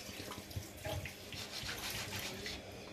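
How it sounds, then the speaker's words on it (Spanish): Half a litre of water is poured into a pot for quail escabeche, along with white wine and balsamic vinegar. The water runs in a steady, close, continuous stream for the whole stretch, with no talking over it. "Y ahora aquí le vamos a poner el agua"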